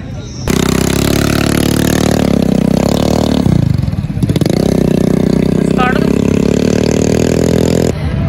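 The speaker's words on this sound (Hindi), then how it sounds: "अब मैं बाइक चला रहा हूँ," A motorcycle ridden on a rented ride around Seaview, its engine a loud, close, steady drone that rises and dips with changing revs throughout.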